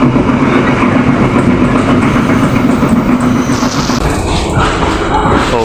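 Malabar passenger train rolling along in Indonesia, heard from inside a carriage as a loud, constant rumble and rattle with wheel clatter and no pauses.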